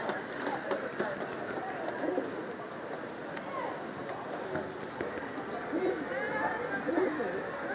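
Racing pigeons coo at their loft, low rolling calls repeating throughout over a busy background with voices and rustling movement.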